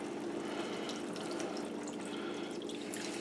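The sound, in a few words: pouring water into cooking pan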